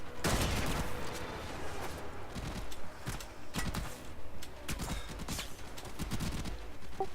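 Rapid gunfire in the video game Warframe aimed at the player, loud bursts of shots and clattering impacts that come in quick volleys over a few seconds, with no talk.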